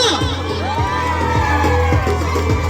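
Crowd at a church sports fest cheering and shouting, a continuous loud roar of mixed voices with whoops and children's yells, close and dense throughout.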